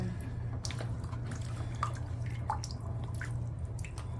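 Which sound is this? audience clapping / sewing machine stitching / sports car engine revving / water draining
water draining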